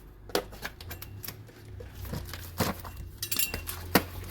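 A putty knife pries at an oil change kit for a 2024 KTM/Husqvarna 450 SX-F, giving sharp clicks, scrapes and light plastic snaps at irregular intervals, quiet and close with a low hum behind.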